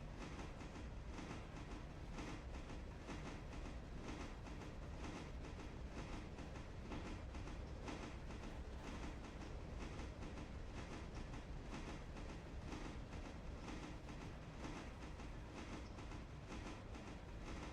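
A freight train rolls in the railway game Railroader, carrying log and pulpwood loads with a steady, continuous rumble and a rhythmic clickety-clack of wheels that runs unbroken throughout, fairly faint.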